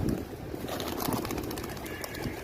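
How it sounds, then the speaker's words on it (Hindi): A flock of pigeons, just released by their keeper, flaps and coos outdoors, soft cooing and wing flutter over steady background noise, fairly faint and continuous. "ये देख लें माशाल्लाह कितना कबूतर सब उड़ा दिया।"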